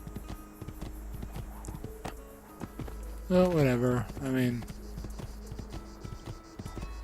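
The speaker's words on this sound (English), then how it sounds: "I wish they had upgraded the effects on Ezio's cape when he rides horses" Horse hooves clopping in steady rhythm as Ezio rides in Assassin's Creed 2, a moderate game sound effect running under a voice talking over it.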